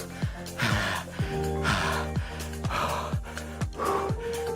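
Heavy, ragged breathing from a rider pushing through a spin bike endurance session, with repeated sharp gasps and snorting exhales close to the mic in an uneven rhythm.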